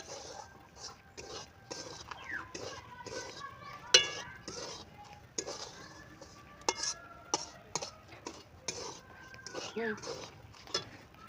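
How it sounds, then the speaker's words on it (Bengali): Semolina being stirred into bottle gourd in a pan, heard as quiet scattered scrapes and clinks of a utensil against cookware in an uneven rhythm beneath a voice speaking throughout. "এবারে সুজিটাকে এর মধ্যে ভালো করে আমি নাড়াচাড়া করে নিচ্ছি"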